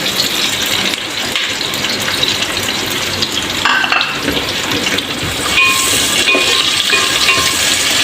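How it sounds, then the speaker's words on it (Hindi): Sliced onions frying in a pan for a chicken and tinda curry, a loud dense sizzle filling the whole stretch with occasional stirring scrapes, close up and without talk. "प्याज को गोल्डन होने तक हम फ्राई करेंगे"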